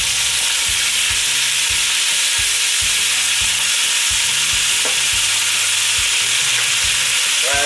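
Sausage, chorizo-style, fries in a pan with a loud, continuous crackling sizzle, close and steady throughout, with scattered spits and pops over the hiss and no talking.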